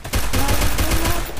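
Video game gunfire comes as rapid bursts of shots in a quick rhythm, loud and close, and nobody speaks over them.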